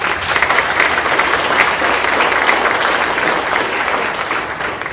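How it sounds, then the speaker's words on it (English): A school board meeting audience in Southampton County claps for a student of the month, giving continuous, fairly loud and even applause that holds steady throughout before tapering slightly at the end. "please give him applause."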